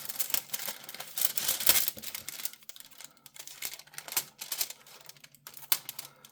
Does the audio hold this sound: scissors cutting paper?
yes